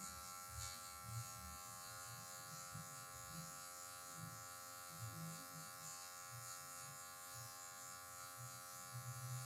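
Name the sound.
electric hair clipper trimming hair for a taper fade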